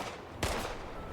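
A single loud gunshot bursts out from an action video game, Indiana Jones and the Great Circle, a sharp blast rising above steady background game noise.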